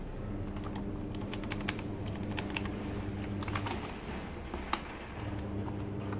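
Rapid clicky keystrokes on a Zebronics Zeb-Max V2 mechanical keyboard with blue switches, sharp irregular taps fairly close over a steady low background hum, with no talking.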